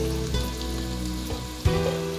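Browned ginger, garlic and onion, fried in coconut oil, drop into a hot pan of sura puttu, setting off a steady close sizzle with a brief louder crackle near the end.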